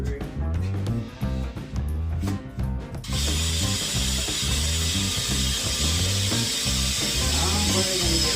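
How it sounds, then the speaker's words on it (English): A drill whirs in repeated short bursts, then runs continuously with a harsher, grinding tone as it bites through a well pressure tank, loud and close. "This may take a while to drill through."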